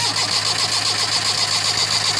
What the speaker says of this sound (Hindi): ये अब गाड़ी स्टार्ट हो गई है